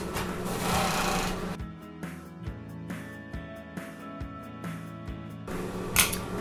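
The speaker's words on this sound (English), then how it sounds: "So same process, just go ahead and serge all your edges together." A serger sewing machine stitching the edges of white lining fabric for a DIY bathing suit: a loud continuous whirring run at first, then a series of short mechanical stitching bursts separated by clicks and pauses.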